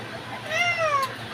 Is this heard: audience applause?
no